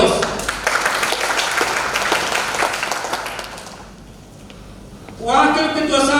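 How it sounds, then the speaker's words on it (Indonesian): Applause from the audience at a formal inauguration ceremony of a regional political organisation's board in Serang, a dense sustained clapping that thins out and fades, then a voice begins speaking over the hall. "Beri aplaus."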